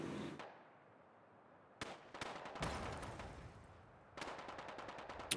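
Gunfire in the video game Fallout London bursts out after a lull: a sharp shot, then a rapid rattling volley of repeated cracks, with more shots following, moderately distant.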